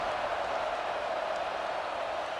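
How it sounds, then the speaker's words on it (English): A high school football crowd buzzes at an Illinois game between Niles Notre Dame and Joliet Catholic, a steady, dense wash of distant chatter and murmuring from the stands, unbroken and fairly loud throughout. "this crowd is buzzing after that last score"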